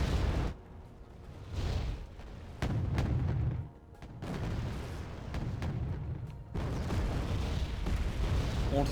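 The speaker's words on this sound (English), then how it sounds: "And continuous mortar fire down below." Continuous mortar fire in the war strategy game Wargame Red Dragon, a series of heavy booming impacts and blasts at irregular intervals, loud and close with rumbling gaps between.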